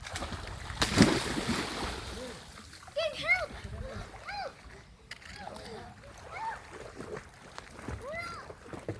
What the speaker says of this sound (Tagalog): Mga bata mga ligo. Nindot.